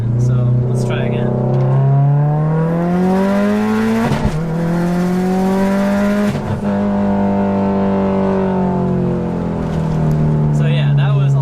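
A 500 hp 2008 Subaru STI on a full-throttle pull, its engine note climbing steadily in pitch, breaking briefly at two gear shifts and then rising again, loud and close from inside the cabin.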